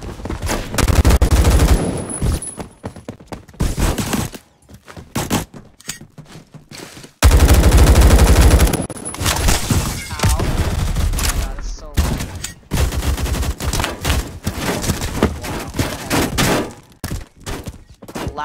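Rapid bursts of loud gunfire from a laggy Roblox shooter game crackle in dense volleys with thudding impacts and brief gaps, while excited players talk and shout over the shooting.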